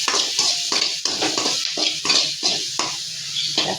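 River crab gravy with onions and turmeric is sautéed in a pan, a spoon scraping and stirring in repeated strokes roughly every half second over a soft, steady sizzle.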